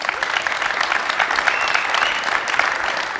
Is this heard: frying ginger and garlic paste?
no